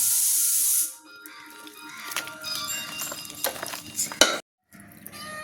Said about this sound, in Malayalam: ഇനി നമുക്കിത് നന്നായിട്ട് മിക്സ് ചെയ്യണേ നന്നായിട്ട് ഇങ്ങനെ മിക്സ് ചെയ്തെടുക്കാം